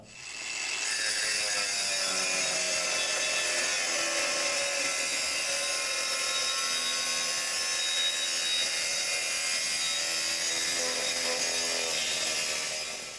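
Budget Leader cordless angle grinder cutting a thick steel pipe of about 3.5 mm wall, a steady harsh grinding whine with scraping texture held for many seconds, close and without talk.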